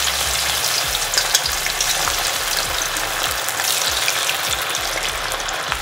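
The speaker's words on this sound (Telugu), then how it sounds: "లో ఫ్లేమ్లో పెట్టేసుకొని ముందుగా మ్యారినేట్ చేసి పెట్టుకున్న చికెన్ పీసెస్ని వేసుకుందాం." Marinated chicken pieces for street-style chicken pakodi frying in oil over a low flame, giving a steady, dense crackling sizzle that carries on without a break throughout.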